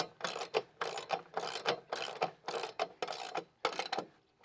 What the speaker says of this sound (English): You use a 3/8 by 1 inch lag bolt on the top. It only goes into the top board, not the fence post. You can start it by hand, and you use a 9/16 socket and ratchet.